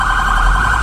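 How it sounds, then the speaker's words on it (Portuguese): Police car sirens wail loudly and steadily during a funeral procession, a continuous close blaring tone that fills the street with no pauses. "As viaturas com sirenes ligadas, os aplausos do povo durante o cortejo"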